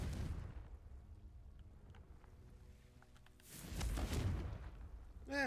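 A Confringo blasting spell in Hogwarts Legacy goes off as a muffled boom partway through, a swelling rumbling burst after quiet low ambience, followed by a short sharp flourish at the end.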